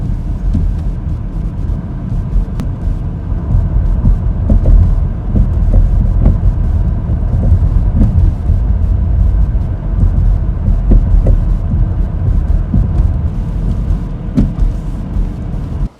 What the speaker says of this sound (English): it's definitely a suspension related noise rather than a brake or back plate or heat shield type noise